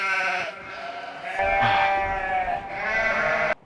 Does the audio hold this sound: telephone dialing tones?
no